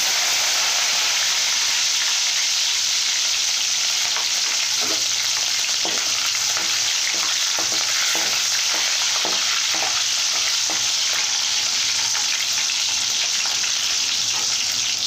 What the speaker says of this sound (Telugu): ఈ చిటపటలాడాలండి. పోపు దినుసులు వేగినాయండి.